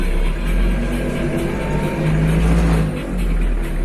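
An Iseki tractor fitted with a rotary tiller set to floating starts driving across uncultivated soil left after soybeans, its engine a loud, steady low rumble close by that swells and settles slightly.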